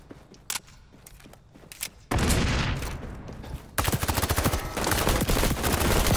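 MP5 submachine gun fire in the XDefiant multiplayer shooter: scattered early shots give way to loud, sustained rapid automatic bursts that keep building in intensity.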